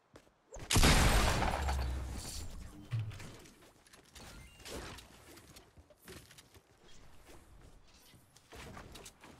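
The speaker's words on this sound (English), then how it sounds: "is that a sniper rifle I hear?" Sniper rifle gunfire in the Fortnite video game: a loud, sharp blast followed by a ringing, decaying tail, then scattered fainter shots and game noises trailing off.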